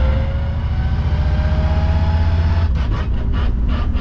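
A loud 1955 Chevy engine with a NASCAR transmission drones steadily, then its pitch drops and the note pulses unevenly as it downshifts to first gear without the clutch.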